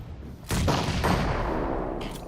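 Grenades landing on a position in a competitive video game match, with a loud blast followed by a rumbling, sustained roar of explosions and fire.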